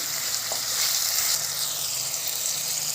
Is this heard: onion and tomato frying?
yes